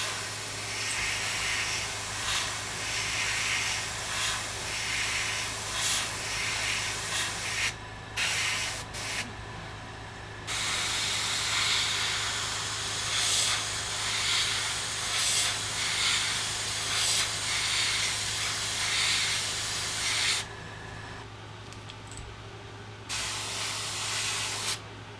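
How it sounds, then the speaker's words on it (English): An airbrush sprays blue paint along the side and gill plate of a fishing lure, a close, continuous hiss that stops briefly twice before resuming. "I'm going to be spraying the side of the bait, kind of doing a line down the side of it and hitting up here on the gill plate"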